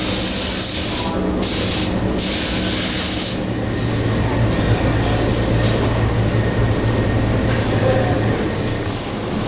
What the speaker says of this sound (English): We'll spray a coat of lacquer on the guitar